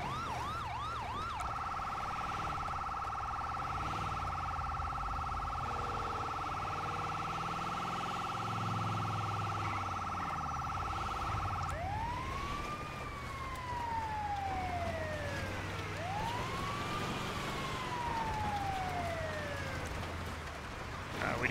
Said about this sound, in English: We do not need our siren on a dirt road.